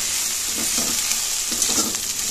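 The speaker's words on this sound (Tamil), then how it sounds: "5 நிமிஷத்துக்கு பாகற்காயை நான் வதக்கியிருக்கேன்." Sliced bitter gourd sautéing in a pan, a steady close frying hiss with soft scraping stirs at a slow rhythm, no voices.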